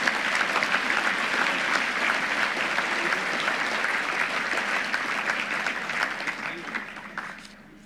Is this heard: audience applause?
yes